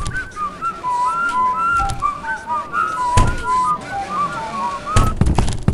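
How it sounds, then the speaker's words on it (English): Melodic whistling from the principal in the Baldi's Basics video game wanders up and down in short tuneful phrases, loud and close, punctuated by a couple of sharp thuds. "I like your whistling."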